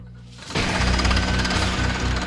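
A drill bores into extremely hard bedrock for micropiles at the Grand Canyon Skywalk, starting abruptly and running as a loud, continuous, rattling hammering roar close by.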